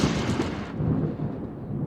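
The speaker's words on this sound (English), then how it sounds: "The end of a hot summer day is often decided by heavy thunderstorms." Heavy summer thunderstorm in the Bavarian mountains near Berchtesgaden, thunder rolling as a loud, sustained low rumble that dulls after a sharper opening burst, with no voices.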